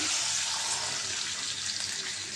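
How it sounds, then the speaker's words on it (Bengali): Water pouring steadily into a cooking pot (kadai) already holding oil and ground onion, garlic and ginger paste for a shing fish and potato curry, a continuous close rushing splash with no talk. "পানি দিয়ে দিলাম"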